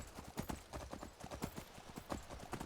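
Horse hooves clip-clop in a steady trotting rhythm in the Skyrim video game, quiet but distinct, with no talk over them.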